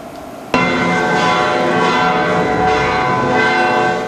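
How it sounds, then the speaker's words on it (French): Church bells peal at a Catholic cathedral ceremony in Lomé, Togo, bursting in loud after a quiet moment and ringing on continuously with rich, overlapping tones. "Les cloches carillonnent"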